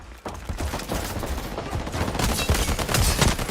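Rapid bursts of video game gunfire in a team shooter fight over a shield breaker, loud and continuous, building into dense overlapping volleys toward the end.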